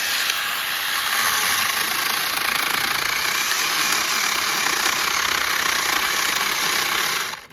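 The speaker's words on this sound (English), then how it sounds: "This is a 6-inch chainsaw, so this is about as thick of a branch as you would want to use on this" A 6-inch SeeSii battery mini chainsaw cuts through a thick branch, giving a loud, continuous, strained buzzing whine with rattling vibration that runs steadily for several seconds before cutting off at the end.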